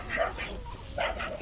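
Puppies give a few short, high yips and whimpers close by, mixed in with someone talking over them.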